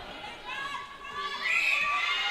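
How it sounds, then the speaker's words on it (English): Indoor netball crowd at the Gold Netball Centre, a dense steady roar of many voices that swells louder toward the end, with shouts rising above it. "Listen to the crowd here at the Gold Netball Centre. I can hardly hear myself think."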